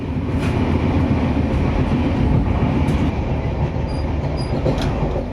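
The Padatik Express passenger train rolls along steadily in the morning, a dense continuous rumble of wheels on rails with faint clacking and occasional high squeaks, heard from inside the carriage with no speech.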